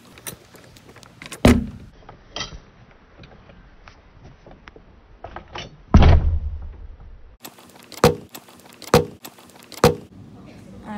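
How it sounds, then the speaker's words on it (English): Rattling and clunking of a house door being tried and then opened, with sharp thuds, a heavier bang midway and a series of quick knocks and handle clicks, close by with faint background noise. "That door must not work, but this door works."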